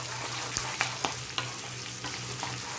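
A tempering of spices fries in a pan with turmeric and salt added, giving a steady close sizzle broken by a few sharp stirring scrapes and clinks.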